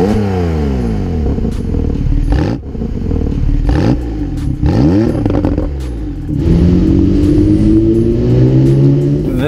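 A 2017 Porsche 911 Carrera 4 GTS Cabriolet with sport exhaust accelerating hard, engine revs climbing through several gear changes, each shift marked by a brief dip, loud and close throughout.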